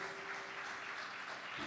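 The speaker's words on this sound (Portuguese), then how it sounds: "Aplauda Ele." A church congregation applauds in a soft, steady wash of clapping, fairly faint and heard from a distance, with no talk over it.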